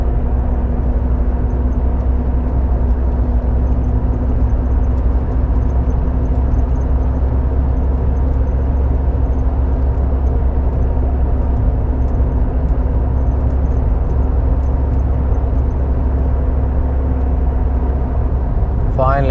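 A car drives through a tunnel, a steady loud low engine and road rumble with continuous whir that stays constant throughout, close and enclosed, with no clear talk.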